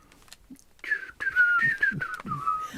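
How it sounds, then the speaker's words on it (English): A Jesus hand whistle toy blown in a wavering, warbling tone that slides and holds for about two seconds, fairly close and loud with a few soft knocks underneath. "The Jesus hand whistle"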